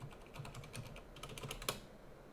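Quiet rapid typing on a computer keyboard, a steady stream of soft close key clicks with one sharper keystroke near the end, faint and without talk.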